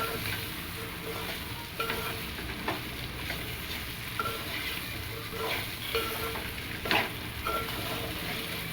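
Okra cooks gently in a little oil for a bendakaya pulusu curry, giving a steady low sizzle broken by occasional soft stirring scrapes and clicks, close and fairly quiet, with no voices.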